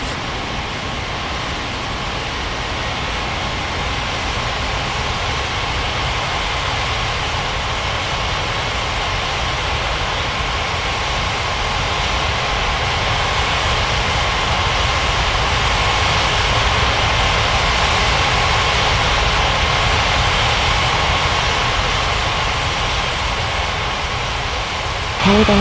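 A jet airliner takes off in an air traffic control game at Paradise Island International, its engines a loud, continuous roaring whine that slowly swells and holds, with no speech over it.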